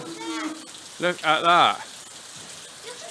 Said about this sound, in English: look at the rain coming down now